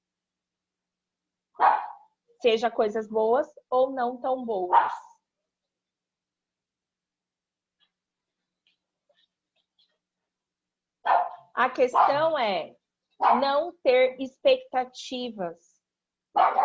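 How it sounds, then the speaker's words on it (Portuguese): A dog barks in several quick bursts, close and clear, between stretches of a person speaking, with a long quiet gap in the middle. "desculpem o cachorro"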